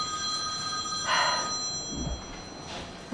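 A telephone rings indoors in a home kitchen, a bright trilling electronic ring in repeated bursts over a low hum, moderately close, with no talk during it.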